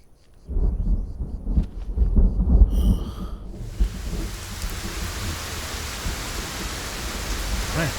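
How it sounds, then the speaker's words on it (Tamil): Heavy rain sets in during a film scene, with low rumbling and voices at first, then a steady, loud hiss of downpour. "அண்ணே மழை பெய்யுது"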